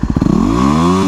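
A Yamaha WR250R motorcycle engine revs up from rapid chugging pulses into a loud, rising, sustained whine close by. The bike has an aftermarket counter sprocket that stripped the drive shaft splines.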